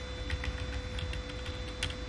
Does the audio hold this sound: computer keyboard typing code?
yes